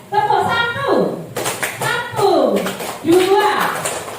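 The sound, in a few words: audience clapping along to a clap chant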